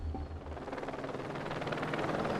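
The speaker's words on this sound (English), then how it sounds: "At 11:35 a.m., a rescue helicopter spots Larry" A rescue helicopter's rotor thuds in a steady, rapid beat under a loud, broad engine roar. It sounds fairly close and continuous.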